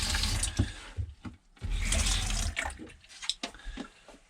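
Water runs from the taps of a 2009 Travel Lite 890 SBRX truck camper in loud, close bursts of gushing flow that stop and restart several times.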